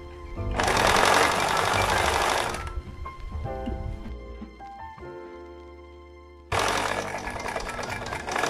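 Home sewing machine stitching a strap into a summer top, two loud, close bursts of rapid mechanical whirring with a quieter gap of handling and clicks between them.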